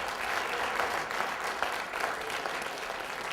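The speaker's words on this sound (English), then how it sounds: "A nice round of applause for our judges" An audience at a college elevator pitch competition applauds the judges, a dense, steady wash of clapping from many hands that fills the room at an even level for the whole stretch, with no voices above it.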